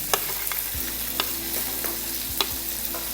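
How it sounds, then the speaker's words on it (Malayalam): Ginger and garlic sizzle steadily in hot oil, with a few sharp spatula scrapes and clicks against the pan standing out over the constant frying hiss. "ഇഞ്ചിയും വെളുത്തുള്ളി ഒന്ന് മൂത്ത് വരുന്നുണ്ട്."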